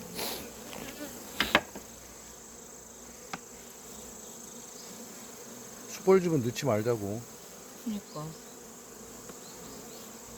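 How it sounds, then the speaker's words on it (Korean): A yellow-legged hornet hovers at a honeybee hive, giving a steady insect buzz with a louder, close pass midway, while people talk quietly nearby in an outdoor apiary. "다리가 이렇게 노란 말벌이, 등검은 말벌이라고 그래"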